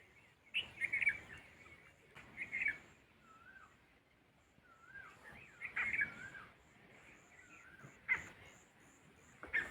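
Several birds chirp and call in the early morning, bright repeated tweets and short whistled phrases coming in bursts over a quiet background, fairly near.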